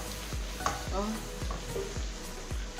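Onion goes into hot oil after meat has been fried in it, sizzling close and steady while a spoon scrapes the pan in repeated short strokes about every half second.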